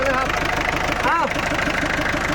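A cheap used car's engine idles steadily, a continuous mid-pitched rumble with a faint knocking rhythm, loud and close throughout.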